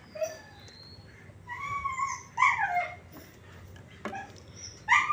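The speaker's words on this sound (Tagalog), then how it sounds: "medyo maingay yung aso dito" A dog whimpers and yips in short, high-pitched bursts, fairly close, with brief pauses between cries.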